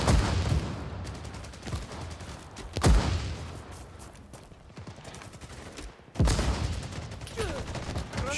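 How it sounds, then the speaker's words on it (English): Bursts of suppressed MP5 submachine-gun fire in the Cold War tactical shooter '83: rapid muffled volleys in a few separate strings, each starting with a sharp loud crack and trailing into dense clatter. "we got ourselves a suppressed MP5"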